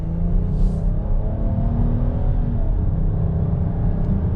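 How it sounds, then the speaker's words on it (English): Heavy, steady engine rumble from a 2022 Chrysler Pacifica Limited AWD minivan accelerating under light throttle, its tone climbing smoothly, heard from inside the cabin with no talking. "just giving it a little bit of throttle, nicely up to speed, makes a good sound too."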